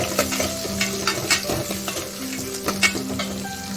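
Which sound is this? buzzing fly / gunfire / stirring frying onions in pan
stirring frying onions in pan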